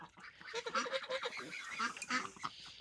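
Geese honk repeatedly in a chattering series of nasal calls, fairly close and moderately loud.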